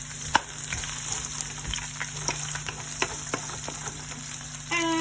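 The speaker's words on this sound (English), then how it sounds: "So now we're ready to stir fry all the spices, the garlic. We'll add the onion." Garlic, spices and onion stir-fry in a pan for clam meat with tomatoes and vegetables, making a continuous close sizzle broken by scattered clicks and scrapes of stirring.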